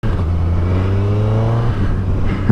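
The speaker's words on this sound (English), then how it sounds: "It has got a little bit of a gurgle from the airbox as well on the part throttle." A 2022 Suzuki Hayabusa motorcycle engine hums close and loud at part throttle, a steady low drone with airbox gurgle that shifts pitch slightly before easing off near the end.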